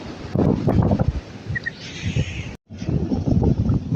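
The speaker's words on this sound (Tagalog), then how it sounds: "malakas pa rin yung hangin habagat" Strong habagat monsoon wind gusts by the sea, roaring and buffeting against the microphone in uneven bursts, loud and close, with a brief cut partway through.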